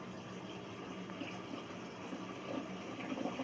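A washing machine set to 40 degrees with no detergent fills with water while washing Aquael Ultramax aquarium filter sponges, a faint, steady rushing and trickling heard alone.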